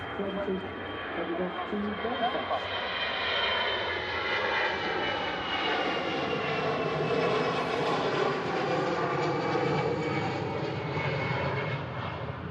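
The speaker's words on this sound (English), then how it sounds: "EasyJet on the roll out to Belfast" An EasyJet airliner rolling out for departure at Manchester Airport produces a loud, sustained engine roar with a slowly shifting whine. Voices talk over it throughout.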